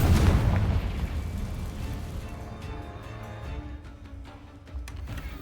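Spell explosions from Bombarda and Confringo in the Hogwarts Legacy video game, a heavy booming blast followed by a sustained rumbling roar with crackling debris, loud and with no talk over it.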